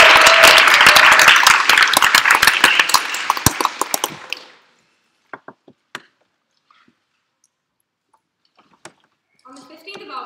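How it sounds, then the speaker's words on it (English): Dense, loud applause from a crowd fills the first four seconds, then fades to scattered claps and quiet, with faint talking near the end. "receive a rapturous round of applause"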